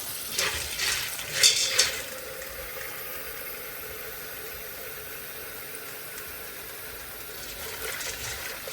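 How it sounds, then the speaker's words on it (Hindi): Water drained off soaked chickpeas in a home kitchen, a brief splashing pour at the start that gives way to a low, steady background hum. "वैसे तो साफ़ सुथरे ही होते हैं चने यहाँ पे, लेकिन एक दफ़ा तो पानी निकालना चाहिए"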